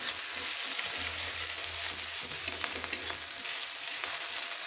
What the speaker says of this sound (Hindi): इसे थोड़ा हल्का ब्राउन होने तक भूनेंगे।